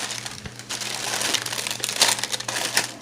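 A knife saws through a crusty French baguette, giving dense crunching and crackling of the crust in close, loud bursts for a few seconds without talk.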